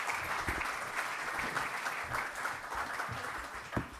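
A convention audience claps steadily in a hall, dense continuous applause with a few louder individual claps standing out.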